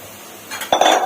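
Chopped carrot and cabbage are stirred together in a pan, heard as a quiet lead-in followed by a short burst of metallic scraping and clinking from the utensil against the pan.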